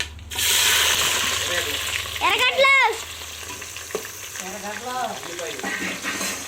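Bay leaf frying in hot oil while being stirred at the start of a mutton biryani, a loud, close, continuous sizzle with brief voice-like sounds partway through.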